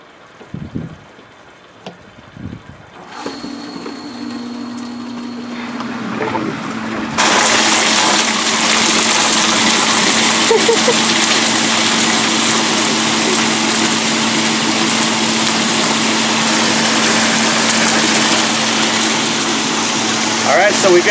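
Pump on a freezer bait tank switches on, circulating and aerating the water: after some handling clunks a steady motor hum starts, then a loud continuous rush and gush of spraying water takes over and holds steady.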